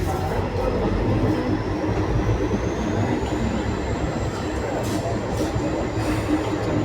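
Steady broadband rumble of a train underway on a rail journey, continuous and fairly loud with a faint high whine drifting across the top, no voices.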